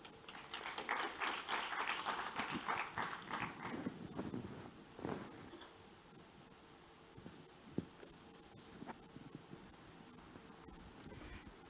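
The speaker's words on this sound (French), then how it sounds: "On peut les applaudir à nouveau tous les deux." Audience at an energy policy conference applauding, a faint patter of clapping that swells briefly then dies away into a quiet room with a few scattered taps.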